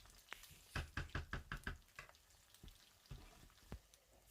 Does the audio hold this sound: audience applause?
no